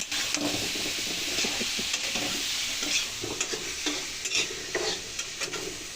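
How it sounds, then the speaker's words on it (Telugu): Onions and tomatoes fry in a pan under a constant loud sizzle and hiss, with a spoon scraping and stirring through them in quick, uneven strokes close by; no one speaks. "ఇప్పుడు ఆనియన్స్ ఎగిపోయినాయి, టమాటాలు వేసేసుకొని మళ్ళీ కలిపేసుకొని మూత పెట్టేసుకుందాం."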